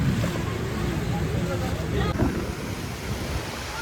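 A boat runs over sea waves on the way to Coral Island off Pattaya, Thailand, with a constant rush of water and wind buffeting the microphone close up.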